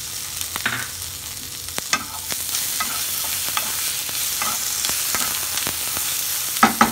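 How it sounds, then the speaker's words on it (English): Masala of ginger and chopped tomatoes frying in a pan for matar paneer with a steady sizzle, while a spoon scrapes and clicks against the pan as it is stirred, close and continuous. "Our masala is frying for 5 minutes now"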